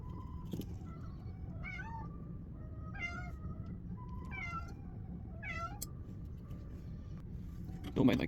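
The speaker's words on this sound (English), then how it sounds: "Don't mind my cat meowing in the background" A tuxedo cat meows four times in a row, evenly spaced and fairly faint, against a low background hum indoors.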